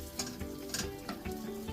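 Chili paste with fresh sliced red chilies, squid and shrimp stir-fried in a pan, giving a steady close sizzle with rhythmic scraping and stirring strokes.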